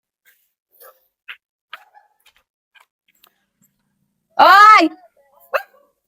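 A house dog guarding the home barks once sharply, a single short bark following a few faint ticks and taps, with one brief spoken exclamation nearby.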